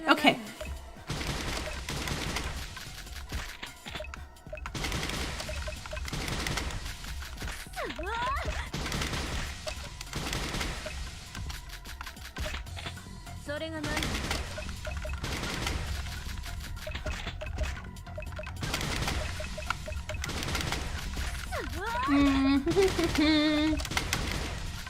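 Game gunfire from Super Danganronpa Another 2 crackles in repeated bursts of shots over background music, with a player talking intermittently in between.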